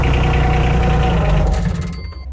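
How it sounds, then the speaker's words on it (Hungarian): An Everun ER1000 articulated loader with a telescopic boom idles nearby, its engine giving a steady, even low rumble with some rattling from an open cab door, fading slightly near the end. "Hát egy szép, finom járású motor."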